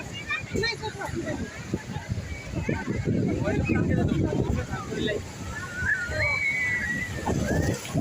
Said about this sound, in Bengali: অনেক ভক্তরা স্নান করছে অনেক মানুষ স্নান করছে